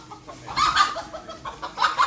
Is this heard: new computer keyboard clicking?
no